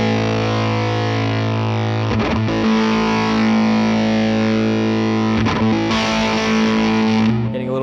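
An electric guitar through an Electro-Harmonix Big Muff Russian fuzz pedal sustains a thick, heavily distorted chord with buzzing harmonics, briefly re-struck twice, loud and close without any talking.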